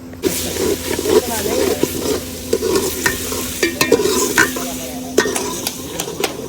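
Onion and tomato masala stir-frying in ghee, a loud close sizzle with repeated spatula scrapes and knocks against the pan in an uneven rhythm, with speech partly beneath it.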